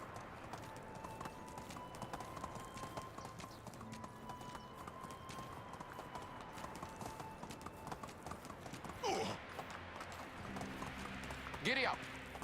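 Steady rhythmic clip-clop of horse hooves while riding in the video game Medieval Dynasty, a continuous close trotting beat with a brief snort or neigh near the end.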